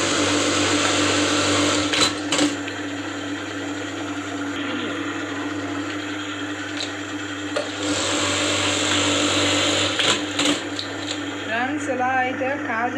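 A buttonhole (kaj) sewing machine runs steadily, a close and continuous mechanical hum with a rapid stitching whir and a few brief knocks. Near the end a voice talks over it.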